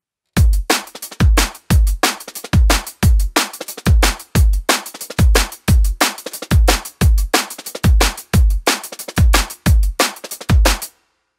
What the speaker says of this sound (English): let's start with the groove that probably everybody plays when asked to play drum and bass